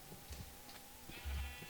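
Sheep bleating in a Minecraft-style city-building game, two or three short bleats close by over a quiet background hum.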